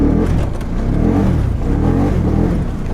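A Polaris ACE 570 off-road vehicle accelerating in four-wheel drive, its engine revving steadily and loudly up close for the whole stretch with no talking over it.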